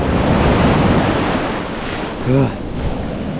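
Ocean waves breaking on a stony beach, a loud continuous rush of surf with wind buffeting the microphone and a brief tonal sound near the end.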